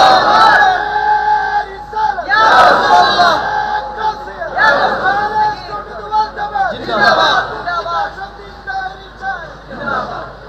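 A large religious gathering shouts the takbir chant Allahu Akbar back in loud, repeated waves of massed voices. The chant rises and falls several times over a continuous crowd roar.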